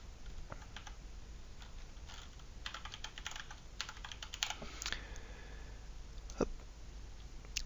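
Someone types on a computer keyboard to add a user on an ASUSTOR NAS, with irregular bursts of quiet, close key clicks separated by short pauses and no voices.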